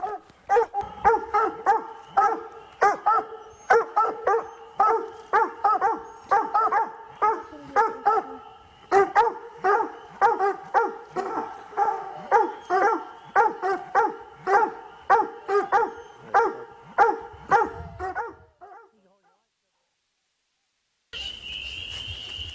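Hunting dogs bay and bark repeatedly at a raccoon treed in a tree during a competition night hunt, a rapid, persistent chorus of loud barks that stops abruptly near the end, followed by silence.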